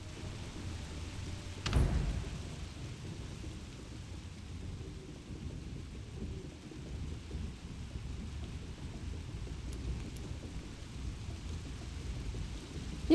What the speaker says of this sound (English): braving the winds and drizzle of this damn coast to earn a living